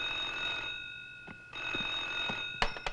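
A telephone rings in an office in a North Korean film with a steady, tonal electronic ring. A few sharp knocks and clicks follow at the end.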